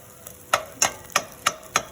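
Spatula chopping fried eggs in a pan for beef and shrimp fried rice, five or six sharp evenly spaced taps against the pan, close and clear over faint background.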